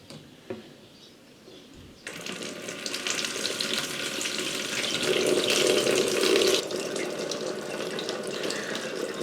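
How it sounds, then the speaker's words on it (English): Elderflower liquid poured through a mesh sieve while making elderflower champagne, a steady splashing, trickling wash that starts abruptly after a quiet moment and runs continuously, loud and close. "pass it through my sieve with a mesh on it, just to eliminate everything."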